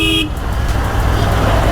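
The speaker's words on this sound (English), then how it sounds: "I'm sorry if you can hear my honks" A short car horn blast cuts off at the start, followed by a steady rumble of traffic and engines nearby.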